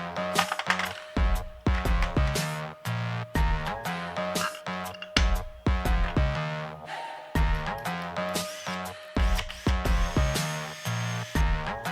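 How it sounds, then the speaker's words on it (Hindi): Power drill fitted with a bolt-mounted brush scrubbing a wall, in repeated short bursts of whirring and scraping separated by brief pauses, close and fairly loud. "इसको ड्रिल के साथ अटैच करके उससे दीवार साफ़ करता हूँ"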